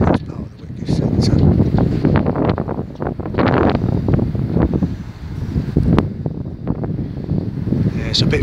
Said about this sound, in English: if it keeps cutting out because of the noise of the wind